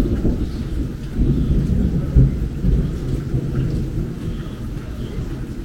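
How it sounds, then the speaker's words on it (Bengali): Heavy rain pours steadily at a jungle camp set among rice fields, with deep rolling thunder rumbling through it, loud and continuous with no voices. "আবার পড়ন্ত শেষ বিকেলে যদি হয় এরকম ঝমঝমিয়ে বৃষ্টি,"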